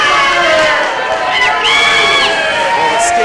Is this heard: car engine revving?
no